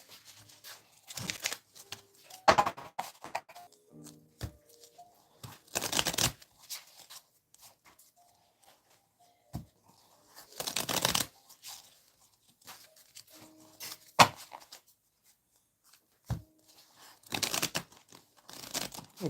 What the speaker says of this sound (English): Really having trouble with this shuffle.